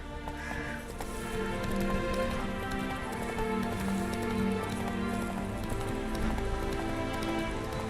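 Geralt's horse Roach gallops in The Witcher 3 on Death March difficulty, with steady, continuous hoofbeats under a dense wash of background game sound and music.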